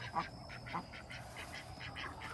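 Ducks in a walk-in run attached to an Omlet Eglu coop give a few soft, fairly close quacks over steady background noise.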